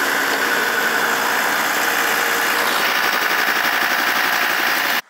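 A Ford engine with a 6R80 automatic transmission runs steadily at idle while its transmission oil is topped up. The drone is loud and constant, with no talk, and it cuts off abruptly at the end.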